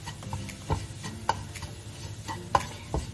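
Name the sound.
mixing honey into ingredients with a spatula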